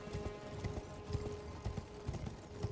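Horse hooves of a Black Knight Cavalry rider in the video game Elden Ring clop in a steady walking rhythm, faint and somewhat distant beneath a low ambient game hum.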